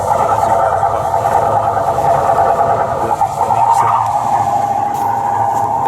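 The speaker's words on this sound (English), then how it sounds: "That's the sound of someone else with an engine problem over here." A troubled boat engine runs steadily on a neighbouring vessel in a marina, a continuous loud droning hum with a wavering tone that persists without a break.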